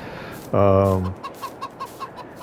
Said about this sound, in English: Eggs are coming along fine. Chickens, nice.